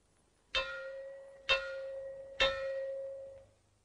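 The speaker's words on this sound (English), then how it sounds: "Or you may hear 3 gongs like this." Three ringing metallic gong strikes sounded as a fallout warning, about a second apart, each with a bright attack and a sustained tone that lingers before fading.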